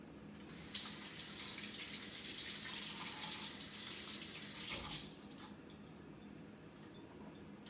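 Tap water pours steadily into a sink while delicata squash is rinsed under it, a close, bright rushing stream that shifts in tone briefly near the end before carrying on.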